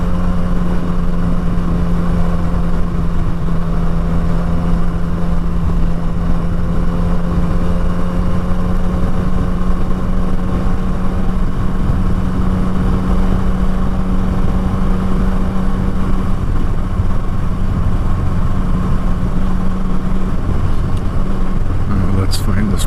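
A motorcycle with a twitchy throttle rides through sandy Arizona desert, its engine holding a steady mid-pitched drone at constant speed throughout, loud and close with wind noise.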